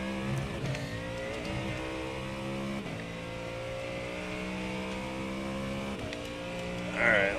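A GT3 race car engine at Sebring in a racing game revs up and down through gear changes, a steady mid-level drone with repeated rising pitch sweeps under faint voices.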